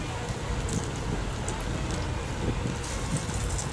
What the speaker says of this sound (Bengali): তো তেলটা অনেক সুন্দর গরম হয়েছে, বুট বুট দিয়ে উঠছে।